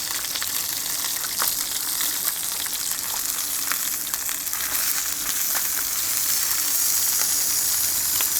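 Chicken skins fry in plenty of grease outdoors as dog treats, a loud, dense sizzle and crackle with scattered pops running continuously.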